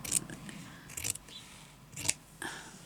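Scissors snip through felt fabric in a few short, crisp cuts, close and fairly quiet, with brief pauses between strokes during hand-sewing craft work.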